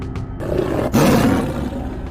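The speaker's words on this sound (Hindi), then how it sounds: "बाघ सतर्क हो जाते हैं और दहाड़ने लगते हैं।" Tigers roar in an animated jungle adventure set in the Sundarbans, a loud, close burst of deep roaring lasting about two seconds with a sharp surge midway.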